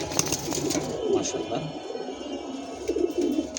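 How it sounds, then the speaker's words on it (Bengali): A pigeon of a racing stock coos softly in a loft, low gentle calls faint against background noise with some indistinct voice. "এটা আমার একটা আর্মি জেনারেশনের কবুতর"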